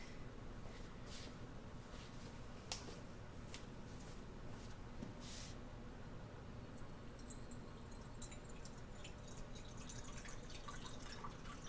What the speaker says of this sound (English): Now I'm going to add some deionized water to dissolve that.